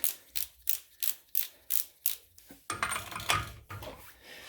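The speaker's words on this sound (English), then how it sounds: "I'll go as high as my torque wrench goes, which is 150 pounds" A torque wrench ratchets in a steady run of about eight sharp clicks on the axle shaft nut of a 2004 BMW 325xi E46, followed by a denser burst of metallic clatter, close and loud, with no talk.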